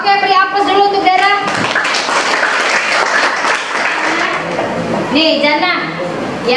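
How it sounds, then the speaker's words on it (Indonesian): Children in a classroom clap for a classmate who showed a perspective drawing, a brief burst of applause between stretches of someone talking to the class. "beri aplaus dulu untuk Dara"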